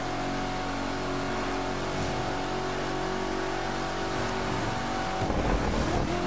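Corvette C7 ZR1 in The Crew 2 with a steady, sustained supercharger whine and engine drone at speed, loud and continuous, with a brief rough burst near the end.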